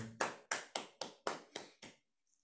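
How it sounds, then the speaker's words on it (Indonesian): Audience clapping at an Indonesian award presentation, heard as seven sharp, evenly spaced claps in a steady rhythm that stop abruptly, fairly faint and with no talk over them. "Tepuk tangan untuk semuanya."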